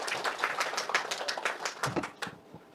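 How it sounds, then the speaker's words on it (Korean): A seminar audience at an AI startup growth strategy briefing claps as a government official walks on stage, a short burst of fairly quiet, separate claps that thins out and stops. "나오실 때 큰 박수 부탁드리겠습니다."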